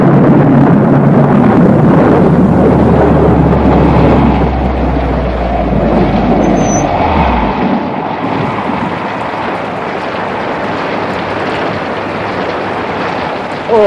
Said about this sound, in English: I think we are in for a storm.